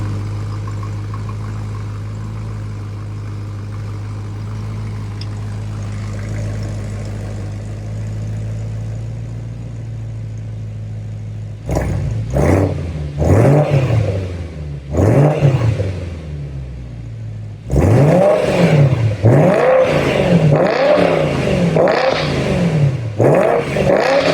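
A BMW E90 M3 S65 V8 exhaust idles low and steady, then roars through several loud, sharp revs in quick succession, close and powerful.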